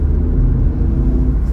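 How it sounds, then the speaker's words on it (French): A car speeding up along a motorway acceleration lane fills the cabin with a loud, steady low engine and road rumble throughout. "Et là c'est une voie d'accélération, on accélère."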